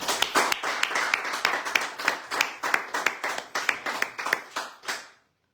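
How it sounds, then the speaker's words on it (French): Small studio audience clapping in rhythmic unison on a French radio bistro show, a brisk regular beat of sharp claps that swells slightly and then stops abruptly into silence. "alors on les applaudit"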